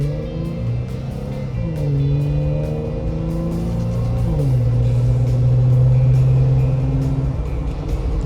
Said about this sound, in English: Exhaust sounds good. It's not overly loud.